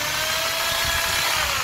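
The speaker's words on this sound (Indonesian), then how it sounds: "Bornya bekerja dengan sempurna" An electric drill runs steadily and loudly on a power inverter fed by a car battery, a continuous high motor whine with no breaks and no speech.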